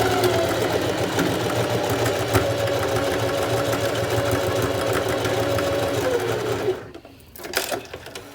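A sewing machine runs a continuous fast whirring stitch through a quilted jacket, holding steady before stopping abruptly, then a few short bursts of back stitching follow.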